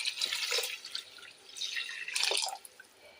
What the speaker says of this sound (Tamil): குழம்புக்கு தேவையான அளவுக்கு தண்ணி ஊற்றிக்கலாம்.